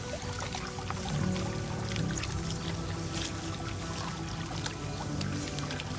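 Steady monsoon rain falls over Konkan rice paddies, a dense continuous hiss and patter at a fairly low level, with no voices heard.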